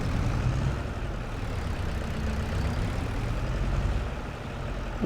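A tractor engine idles at a steady low rumble in Farming Simulator 25, a continuous heavy drone that holds alone throughout.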